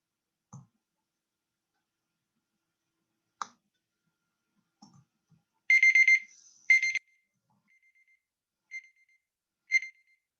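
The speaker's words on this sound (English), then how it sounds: "that's my alarm" A phone alarm beeps in short electronic bursts, two loud ones close together followed by a few fainter chirps, with scattered clicks and otherwise near silence.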